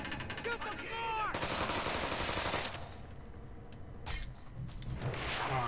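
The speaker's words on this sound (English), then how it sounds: "Shoot the floor!" Gunfire in the video game South Park: The Stick of Truth: dense, rapid bursts of shots and booms filling most of the clip, loud and continuous with short gaps.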